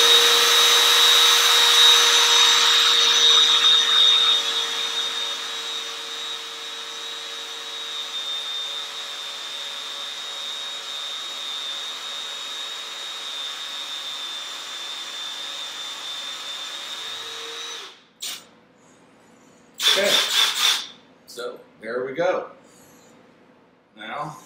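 A power drill with an extension rod bores into a wooden chair stretcher, a loud close whine that eases to a steady drone before cutting off, followed by a few clattering knocks as the tool is set down.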